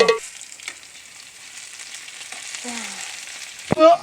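French fries frying in hot oil, a soft continuous sizzle with a few sharp spatula or utensil clanks at the start and near the end, no talk.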